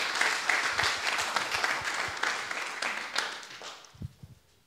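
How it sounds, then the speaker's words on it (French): Audience applause at a round-table discussion on NFTs and the metaverse, a dense wash of many hands clapping that gradually thins out and fades, with a few scattered last claps at the end. "je pense que ça peut être pertinent d'applaudir nos experts"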